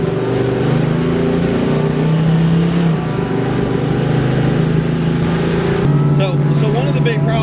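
A '79 Oldsmobile Cutlass Supreme with a completely rebuilt engine and a 373 posi rear end roars loudly and steadily up close, its deep rumble continuous throughout, with voices faintly mixed under the engine noise.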